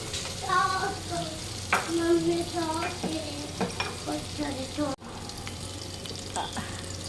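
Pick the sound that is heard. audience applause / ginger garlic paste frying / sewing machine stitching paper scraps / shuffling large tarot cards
ginger garlic paste frying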